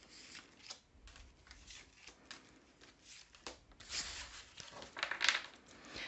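Tarot cards are shuffled and drawn close by: soft, quiet riffling and rubbing with irregular flicks, rising into a louder flurry of snaps near the end.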